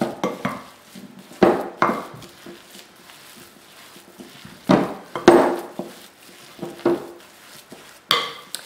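Bread batter being mixed in a buttered tin, heard as close, irregular clinks and scrapes of a spoon against metal, separated by short quiet gaps, with no talk.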